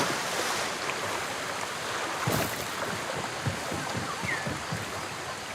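Splashing into water and rolling waves in the video game Ghost of Tsushima, a steady wash of surf and wind with a brief burst of splash midway, no talking.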